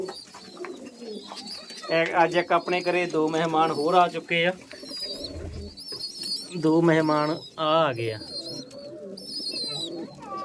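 Many pigeons and their chicks coo softly nearby at a home while someone talks over them, with a few light chirps in between.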